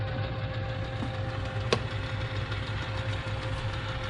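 A 1950s South Bend lathe runs while cutting threads in reverse, giving a steady mechanical hum with a constant tonal whine and one sharp click partway through.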